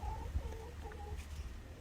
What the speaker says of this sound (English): you can probably hear the girls in the background, chickens